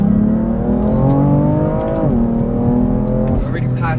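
Stock BMW F80 M3 with its S55 engine heard from the cabin while accelerating, a loud, steady engine drone rising in pitch, dipping briefly at a gearshift and climbing again, with a voice talking over it.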